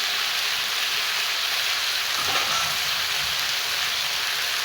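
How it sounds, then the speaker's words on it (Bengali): Steady, even hiss of rain falling, constant and close, with no voices or other sounds over it. "আবার মনে হয় বৃষ্টি নামবো"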